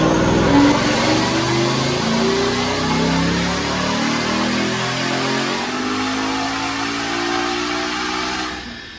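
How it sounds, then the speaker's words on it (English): A manual 2016 Mustang GT with a Stage 2 Whipple supercharger and no long-tube headers makes a dyno pull, its engine note climbing steadily in pitch with a loud, sustained roar that holds for most of the run before cutting off. "So check out this dyno pull."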